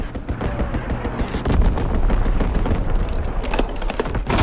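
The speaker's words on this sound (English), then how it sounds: "Enemy strafing run incoming!" An enemy strafing run in the WW2 shooter PFC WW2 unleashes loud, rapid bursts of gunfire and booming impacts that continue densely throughout, close and intense, with no speech over them.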